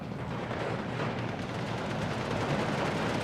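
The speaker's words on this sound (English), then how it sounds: "Arty finally back online and firing again." Artillery pounds away in the war strategy game Steel Division 2, a dense, continuous rumble of distant firing and impacts at a moderate, steady level with no voices.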